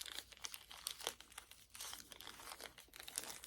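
Crinkly material inside a handmade cat toy is squeezed and handled, giving quiet, close, irregular crackling and rustling bursts throughout, with no talk.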